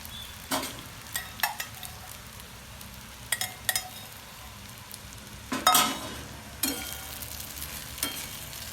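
Sabudana tipped into green chillies frying in a pan and stirred, a low sizzle under scattered scrapes and clinks of a spoon against the pan, with a louder rush of stirring midway.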